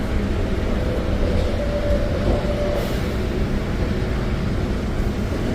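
A Metro Mover train in Miami pulls into a station, a steady low rumble and rolling hum with faint squealing, heard from on board with no talk.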